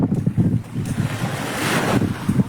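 Sea waves wash and surge continuously near the shore during a net-fishing outing, with steady broadband roar and wind buffeting the microphone throughout.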